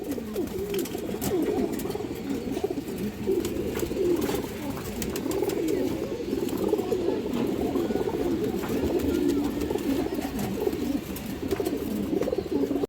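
Pigeons coo steadily and continuously at close range, a dense layered murmur from several birds, among them a silver khaki female pigeon.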